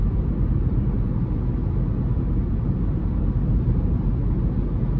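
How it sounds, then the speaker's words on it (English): Steady broadband rumble of road noise heard from inside a 2024 Buick Envista Preferred with the 1.2-liter turbo engine while driving, a continuous low, even hum with no talk over it. "And road noise is minimal."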